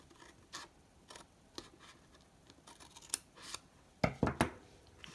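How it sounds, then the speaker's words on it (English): Scissors snip a thin sliver from card stock in a series of short, crisp cuts, spaced irregularly and then bunched toward the end, close and clear with no talking. "Okay, so we just cut out this sliver."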